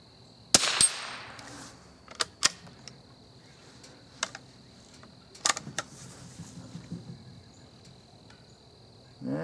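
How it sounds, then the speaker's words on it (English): Several sharp rifle shots from a Winchester 69A fired at outdoor targets, including a swinging target, spaced irregularly with quiet gaps between, under a steady high insect-like hum. "Let's shoot that swinging target on the far right again."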